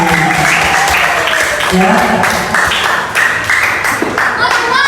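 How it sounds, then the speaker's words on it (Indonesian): A classroom of primary school students breaks into loud, sustained clapping and applause that fills the room, with a voice briefly audible over it. "tepuk tangan dulu buat kalian semuanya"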